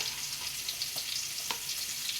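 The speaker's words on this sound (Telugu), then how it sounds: "పచ్చిమిర్చి ఫ్రై అయిపోయినాయండి, ఇప్పుడు టమాటాలు కూడా ఇందులో వేసేసుకున్నాము." Green chillies frying in a pan for a tota kura (amaranth leaf) chutney, a steady, bright oil sizzle with faint stirring clicks, close and continuous with no voices.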